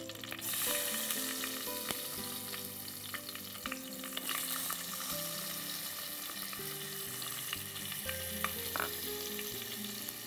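Raw plantain pieces fry and get stirred in a pan of hot oil, giving a steady close sizzle with scraping stirring strokes throughout and faint tonal music underneath.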